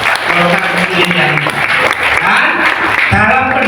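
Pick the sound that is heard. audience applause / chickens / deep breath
audience applause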